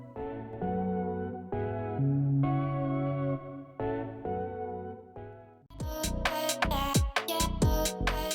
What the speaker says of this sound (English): I'm throwing on a reverb to make it a little more spacey